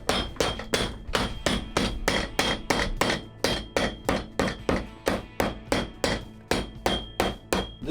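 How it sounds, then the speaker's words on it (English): A hammer strikes a boot being resoled in a rapid, even run of about twenty crisp, close blows, each with a short ringing decay, with no voices. "now it's time to hammer it"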